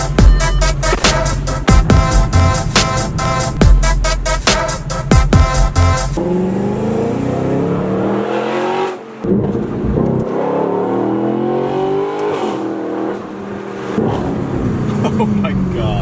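A modded 2015 Audi RS5 with a naturally aspirated engine revs in rapid, loud pulses, then a long rising roar of acceleration with a deep rumble, close and strong throughout.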